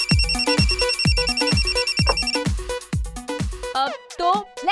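Telephone ringing through to a radio station phone line, a repeating electronic ring pattern over busy background music, with voices chattering near the end.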